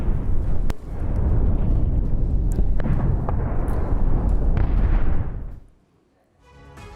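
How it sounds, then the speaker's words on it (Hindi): Rockets fired from Lebanon striking the Safed area of Israel, heard as a rolling series of deep blasts and rumbling explosions over several seconds, then a sudden drop to near silence. "लेबनान से एक और इलाके में रॉकेट दागे गए हैं।"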